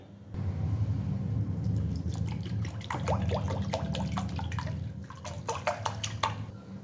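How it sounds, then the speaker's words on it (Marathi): Water and spice masala poured into a bowl make a steady close trickle, then break into quick wet splashes and drips toward the end, with no talking. "तर तेवढं पाणी घ्यायचं, हा मसाला घ्यायचा आणि आपण हे बाऊलमध्ये काढून घेऊयात आणि याचं पाणी तयार करूया."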